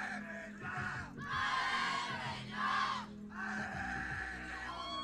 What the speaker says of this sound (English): we can hear the cheering from France team